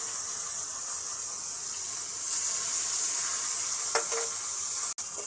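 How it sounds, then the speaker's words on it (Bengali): Fish marinated in turmeric and chilli powder frying in hot mustard oil gives a steady, close sizzle with a brief louder burst near the end and no talk. "কড়া ভাজতে হবে মাছটা"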